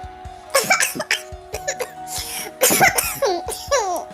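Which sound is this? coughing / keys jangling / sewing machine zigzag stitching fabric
coughing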